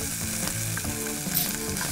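Onion fries in a hot oiled pan, giving a loud, steady, close sizzle with a few tonal scraping strokes mixed in, continuous throughout and with no speech.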